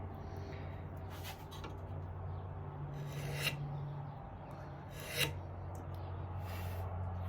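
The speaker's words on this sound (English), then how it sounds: "I'm gonna scrape it one more time." A hand scraper works a wooden tieblock recess, smoothing it flat for an inlay, with a steady close rasping stroke and two sharper scrapes standing out over a constant low hum.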